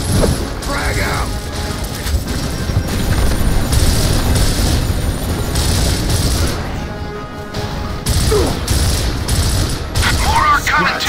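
Grenade blast amid gunfire in Gears of War Ultimate Edition: a dense, continuous wall of combat noise with sustained shooting and booming impacts throughout, voices faintly mixed in.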